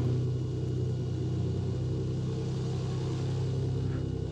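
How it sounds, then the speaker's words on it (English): A Just Flight Turbo Arrow aircraft engine in a flight simulator game hums in a steady, low, even drone, moderately loud and unchanging for a few seconds with no talk. "So the F-Mod sounds. This is the Just Flight Turbo Aero."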